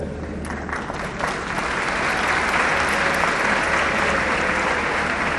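Large crowd applause at a university engineering convocation in Lahore, a broad continuous roar of many hands that swells after the first second and holds steady, loud and dense, with no voice over it.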